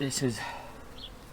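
Honey bees buzz around an open hive during a colony inspection a month after an Easter swarm, a steady faint insect hum under a brief spoken phrase near the start.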